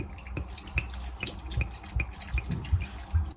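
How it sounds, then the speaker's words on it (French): Sparkling lemonade fizzes up close, a steady crackle of tiny popping bubbles with scattered sharper ticks, alone and fairly quiet. "Limonade gazeuse. Vous entendez les bulles?"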